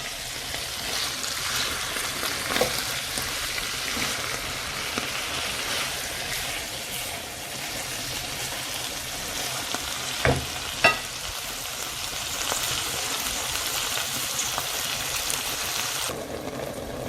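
Mackerel and spinach fry and get stirred together in a pan, a dense continuous sizzle with occasional utensil clinks and scrapes throughout.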